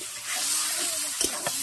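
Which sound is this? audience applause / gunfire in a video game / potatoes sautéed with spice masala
potatoes sautéed with spice masala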